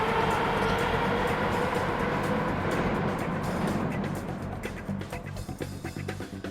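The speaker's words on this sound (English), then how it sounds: "the train shudders and creeps forward, gradually picking up speed" A train sound effect of the Concordant Express shuddering forward and picking up speed: a loud, dense rumble of wheels and carriages that gradually thins and eases, with faint clanks coming through near the end.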